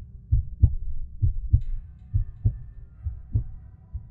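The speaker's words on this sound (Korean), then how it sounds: "심장박동이 빠릅니다." A fast heartbeat sound effect in a horror story narration thumps in low, steady double beats, about two per second, alone and close with nothing else over it.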